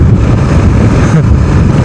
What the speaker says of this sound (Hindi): भयंकर हवा चल रही है भाई